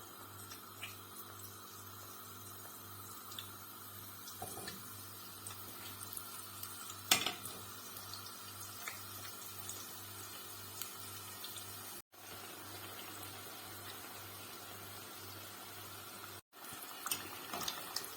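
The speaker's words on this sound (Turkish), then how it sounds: "Isınan yağımıza böreklerimizi atarak kızartmaya başlayalım." A quiet, continuous sizzle and crackle of puff pastry börek deep frying in hot oil, with a low steady hum and occasional soft clinks.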